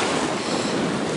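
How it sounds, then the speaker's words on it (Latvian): Sea surf washing onto a beach, a steady broadband roar of breaking waves with wind buffeting the microphone, loud and continuous with no voices. "Mēs atnācām uz jūriņu."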